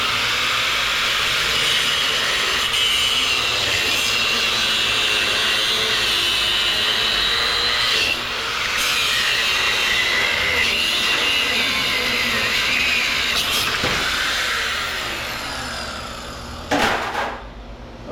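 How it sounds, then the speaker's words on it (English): An angle grinder cuts steadily into a corroded electric motor, a loud continuous high whine with brief pitch dips and shifts, then winding down near the end. "I'm going to use the grinder because I got it out."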